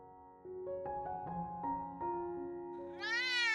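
A cat gives a drawn-out, wavering yowl that climbs into a shrill, strained cry at the end, loud and close with nothing else around it.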